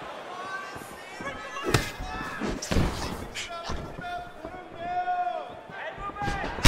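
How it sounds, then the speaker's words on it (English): Several dull thuds of punches landing on the body in EA Sports UFC 4, Chan Sung Jung against Marc Diakiese, scattered among crowd noise and a commentator talking throughout. "lands another beautiful strike to the body"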